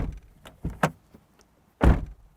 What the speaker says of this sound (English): And finally, door test.